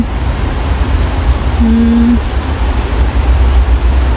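Heavy rain pours in Canada on a mild, rainy day, a loud, dense, unbroken rush of falling water with a brief low hum partway through and no talking.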